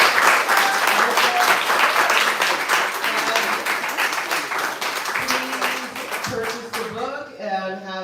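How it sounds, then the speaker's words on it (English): At a book event, an audience delivers a steady, full round of applause that carries on for roughly seven seconds before thinning out as a voice starts talking. "Another round of applause"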